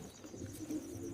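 High-quality Arshad line fancy pigeons cooing, a low, steady murmur of coos close by against a quiet hiss, with no one talking.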